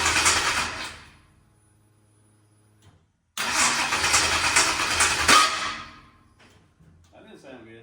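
A 1955 Chevrolet engine with Aces fuel injection cranks with a grinding whir that stops, then cranks again and briefly catches with a rough roar before dying down; a voice follows.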